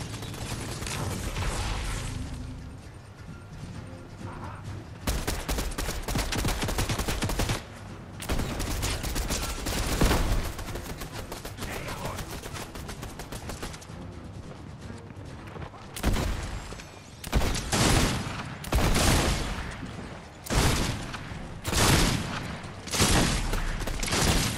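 Rapid bursts of gunfire aimed at a boss in Fortnite Zero Build, with clustered shots and mechanical reload clicks recurring in uneven volleys throughout, moderately loud against a busy game background.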